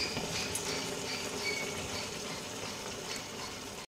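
Jackfruit curry (echor kalia) with garam masala bubbles softly over a low gas flame, a faint, steady simmering with small irregular pops and no voices.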